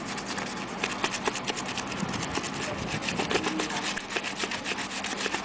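Surface scrubbed with polishing gel, a rapid rhythmic rasping scrub repeated back and forth, loud and close, with faint talk underneath.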